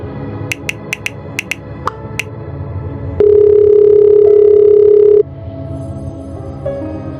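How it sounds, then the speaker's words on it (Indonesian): A telephone dial tone sounds steadily for about two seconds, loud and unbroken, after a quick series of short clicks like button presses while a call is placed, set against soft background music in an animated school game scene. "Grace, coba telepon Pak Henry."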